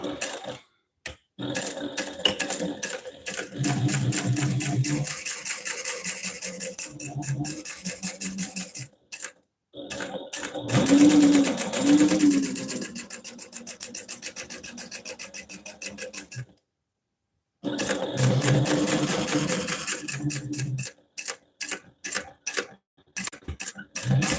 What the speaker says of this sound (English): I do love the walking foot. It's so much better. And like I can actually sew through leather.